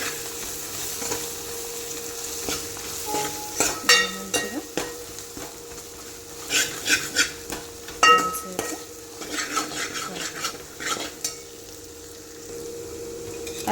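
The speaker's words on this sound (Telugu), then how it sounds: "అల్లం వెల్లిగడ్డ పేస్ట్ వేసాం కదా," Ginger garlic paste being stirred in a frying pan for potato curry, soft irregular scraping and clinking of a spoon against the pan with a faint sizzle, fairly quiet and close.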